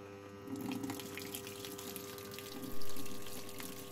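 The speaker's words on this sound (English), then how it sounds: "Water intake started." Water pouring steadily into the drum of an LG top-loading fuzzy logic washing machine on a quick wash with a small water level, a continuous rushing flow that swells louder near the end.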